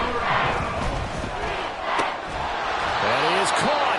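Stadium crowd roaring in an American football video game, Vikings at Panthers, a loud dense sustained wash of cheering and shouting throughout, with a commentator's voice mixed in.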